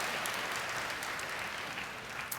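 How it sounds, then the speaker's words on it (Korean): A church congregation applauds to welcome newcomers, a sustained, even wash of many hands clapping that fills the room. "여러분께 박수로 환영하시죠"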